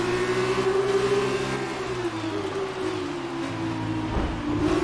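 Race car engines in F1 2019 scream at the race start in a steady, loud high-pitched whine with shifting pitch, several cars blending together up close.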